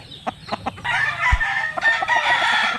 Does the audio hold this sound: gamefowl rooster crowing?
yes